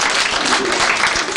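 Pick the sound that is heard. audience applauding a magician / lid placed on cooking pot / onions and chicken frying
audience applauding a magician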